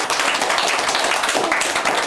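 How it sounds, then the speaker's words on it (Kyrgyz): A village crowd at a surprise celebration in Sopu-Korgon applauds in a steady, dense wash of many hands clapping together, loud and close throughout with no breaks. "Кол чаап койгула эми тургандар"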